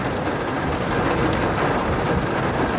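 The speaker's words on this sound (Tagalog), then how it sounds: "Grabe, ang lakas ng ulan." Heavy rain pouring steadily from atop a flyover, a loud, dense, unbroken hiss with no talk over it.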